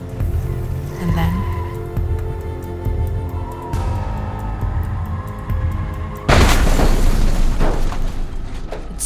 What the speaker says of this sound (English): it smashed, full force, into the back of a large truck parked ahead